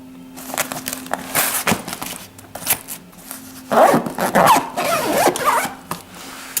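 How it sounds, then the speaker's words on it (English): A zipper closes a canvas pocket on a seat cushion, several quick close rasping pulls and rubbing sounds in bursts, with pauses and handling noise between them, no voices. "zip up the pocket in the canvas"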